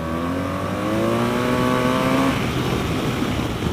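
2016 BMW R 1200 RT motorcycle engine pulling a second-gear roll-on, a steady rising drone climbing in pitch for a couple of seconds then blending into wind roar, close and loud, no talking.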